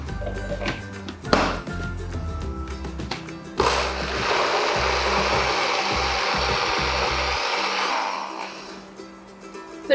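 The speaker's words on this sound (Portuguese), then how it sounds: "E agora eu vou colocar essa mistura para bater." Carrot cake batter with four eggs is whipped by an electric mixer, which starts after a couple of knocks and runs as a loud, steady whirring drone for about five seconds before winding down.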